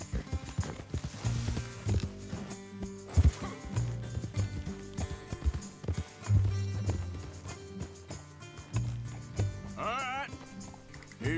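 Horse hooves clip-clop in Red Dead Redemption 2, a steady rhythmic plodding under game dialogue, music and a player talking.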